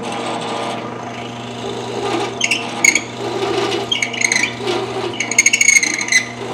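A bit bores a clean exit hole through wood backed by a scrap piece while building a Moxon vise, giving close, uneven scraping and chattering bursts that grow busier toward the end.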